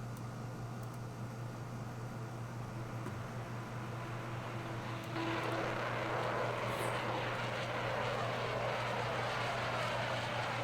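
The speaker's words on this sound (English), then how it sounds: "those are jet engines that are clipping the microphone" Jet engines in the Kerbal Space Program game roar as a steady, loud broadband rush that clips the microphone, jumping sharply louder about halfway through and staying saturated to the end, with no talking.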